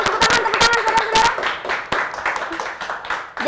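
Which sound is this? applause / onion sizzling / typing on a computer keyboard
applause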